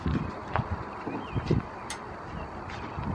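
Horse hooves clip-clop at an unhurried walk along a trail in the early morning, several soft irregular strikes fairly close over a quiet outdoor background.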